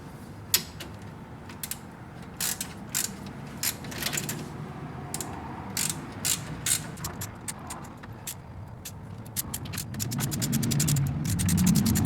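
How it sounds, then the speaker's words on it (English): Ratchet with a 3/4 inch socket tightening brake bolts on a 1988 Pontiac Fiero, giving a run of sharp clicks and creaks in uneven bursts, close by over low workshop rumble that grows louder near the end. "I'm going to take a 3/4 inch socket and we're going to cinch that down."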